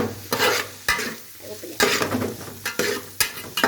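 Onions sizzle in a pan for a homestyle chicken curry while a spoon stirs them, giving repeated scraping strokes over a steady frying hiss, close and fairly loud.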